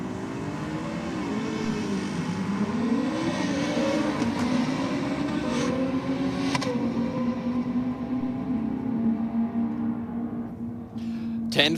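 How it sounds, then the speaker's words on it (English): A Nissan drag race car makes a pass at a race meeting, its engine droning steadily with a rising pitch over about twelve seconds at moderate distance, with commentary voices running throughout. "Well, that was a lot better pass from the Nissan there, Stu."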